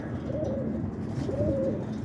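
Whipping roller pigeons coo softly at close range, two rounded, low throaty coos separated by a short pause, over a faint background murmur.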